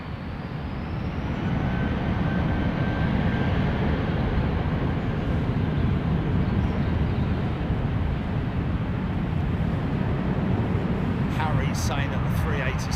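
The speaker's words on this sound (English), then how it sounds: "the 380 Slinger is taxiing" An Airbus A380 taxis at London Heathrow Airport, a loud, steady jet engine roar that stays constant for the whole stretch, close and alone.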